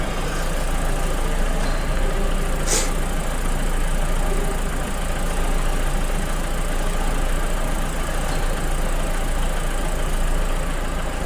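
A car engine idles steadily with the headlights on high beam and the air conditioning running, a loud continuous rumble and drone, close and unbroken, with no talk.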